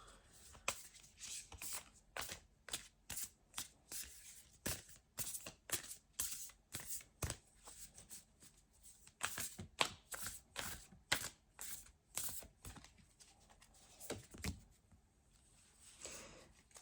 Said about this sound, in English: I'm just doing a light shuffle now.